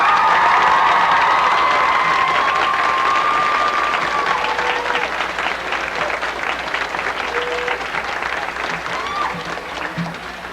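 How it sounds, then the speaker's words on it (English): A holiday vocal concert audience gives sustained applause for the accompanist, a few high whistles or cheers rising at the start before the steady clapping gradually tapers. "I would really appreciate it if we would all give him an extra round of applause"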